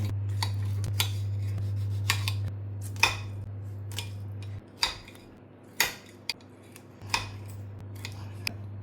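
Small limes chopped with a knife on a board: sharp, irregular taps and clicks, close and crisp, over a steady low electrical hum that cuts out partway through, with no talking.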